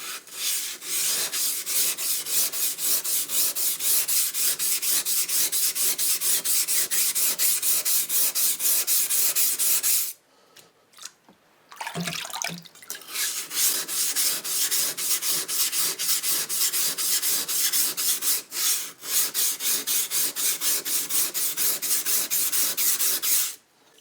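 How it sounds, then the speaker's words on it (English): Rhythmic back-and-forth rasping of a convex edge being ground onto a forged feather pattern chef knife on a coarse abrasive, steady and close, broken by a pause with a few light clinks midway. "I'm doing a convex grind on it."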